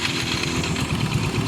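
Motorcycle engine after a pulley repair, revving steadily and loud up close with a rough, throbbing mid-range drone and no talk.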